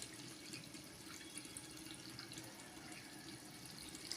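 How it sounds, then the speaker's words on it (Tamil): Water pours steadily into a pot of seeraga samba rice for mutton biryani, a continuous, faint splashing rush with no break. "தண்ணி சேர்த்துக்கலாம்"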